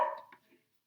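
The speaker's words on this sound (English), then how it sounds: "sorry, that's my dog, up there" A pet dog gives a single short bark indoors, fading quickly into silence.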